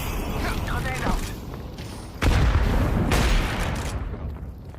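A grenade explodes in Counter-Strike 2 match play, a heavy close boom at mid-clip followed by a second blast and rumbling tail, amid other gunfire with voices talking over it.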